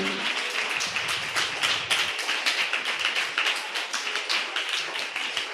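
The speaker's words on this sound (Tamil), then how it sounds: "நல்ல கைத்தட்டி ஆண்டவருக்கு நன்றி சொல்லுங்களேன்" A church congregation claps hands in thanks, dense rapid clapping from many people filling the room, loud and continuous with no talk over it.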